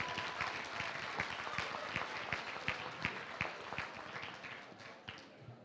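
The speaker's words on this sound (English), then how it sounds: "Can we give all the winners another round of applause one more time?" Sustained applause from a dinner audience honoring award winners, dense steady clapping throughout with a few sharper claps standing out, fading slightly toward the end.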